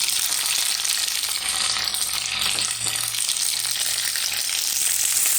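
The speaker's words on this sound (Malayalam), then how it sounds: "എടുത്ത് ഒന്ന് വഴറ്റി കൊടുക്കാം ഇതിലേക്ക് നമുക്ക് അഞ്ചാറ് ചെറിയ ഉള്ളിയും കൂടി വഴറ്റി കൊടുക്കാം" Mustard seeds, fenugreek, green mango pieces and green chillies sizzle steadily in a hot pan of oil, a loud continuous frying hiss with faint stirring, no voices.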